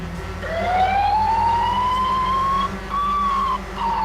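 A loud nearby ambulance siren sweeps slowly upward and holds, briefly dipping twice, with a steady engine hum underneath.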